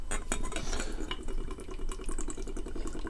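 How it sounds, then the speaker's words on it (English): Beer poured into a thin glass, with a close, continuous splashing and fizzing pour and faint clinks of glass, steady and without talk. "Let's pour it."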